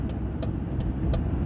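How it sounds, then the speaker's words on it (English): Steady rumble of a car interior while driving through busy road traffic, low engine and tyre noise with passing vehicles swelling now and then, continuous and close throughout. "It's very busy, cars are moving,"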